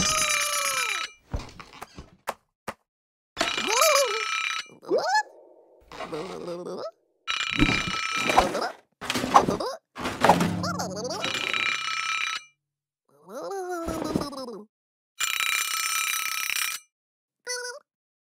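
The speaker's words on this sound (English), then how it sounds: "The alarm woke Little Blue from his sleep." An alarm in a children's storybook reading rings in repeated electronic bursts, bright warbling tones separated by short silences, fairly loud and alone without any voice.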